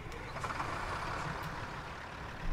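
A truck engine in Euro Truck Simulator 2 rumbles at a low, steady idle, a quiet continuous drone that swells slightly at the very end, with no talking.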